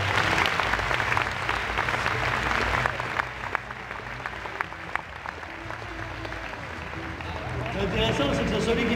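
A crowd applauds a stuntman named Yann at a horse stunt show, with dense clapping and scattered sharper hand claps throughout, while people talk and a voice carries over the noise near the end.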